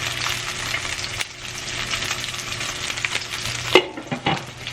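Asparagus seasoned with salt and pepper fries in a pan, a steady close sizzle with scraping and stirring, a sharp utensil knock near the end.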